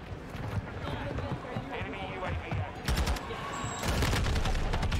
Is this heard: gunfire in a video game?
yes